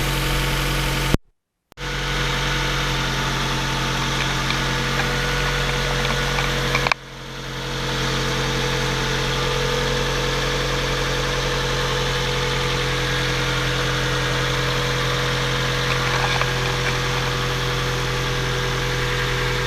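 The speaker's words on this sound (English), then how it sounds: "I'm not gonna take the microphone out so you can hear it just on its own." A 1999 Mazda MX-5 Miata 10th Anniversary Edition idling at cold start, a steady close engine drone with a brief dropout early and a short dip midway, no talk.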